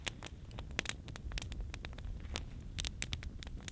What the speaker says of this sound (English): There's rain coming.